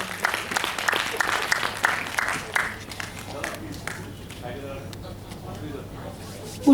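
An audience at a Nazrul birth anniversary festival on the Rabindra Sadan stage claps for honoree Sadhan Saha: dense, fairly loud applause for about three seconds that thins and fades into scattered claps and room noise.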